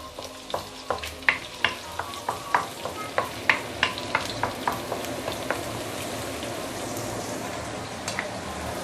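Shallots sauté in a hot pan with a steady sizzle while a spatula stirs them in a quick run of sharp scraping taps, heard up close and without speech.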